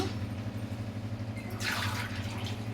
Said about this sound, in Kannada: ಇವಾಗ ನೀರನ್ನು ಹಾಕೋಣ.